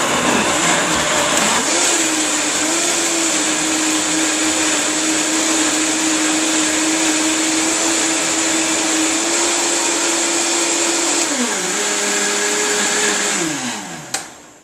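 A blender whirs steadily through a fruit and greens smoothie with ginger and ice cubes, loud and continuous for about twelve seconds, its pitch stepping down near the end before the motor winds off.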